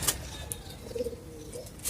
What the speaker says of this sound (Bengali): সমস্ত কবুতরগুলোকে আলাদা করে দিছি